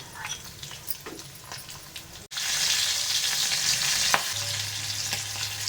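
Garlic, curry leaves and green chillies hitting hot oil for Rajasthani kadhi burst into a loud, steady sizzle that holds after a brief quieter moment of utensil clinks.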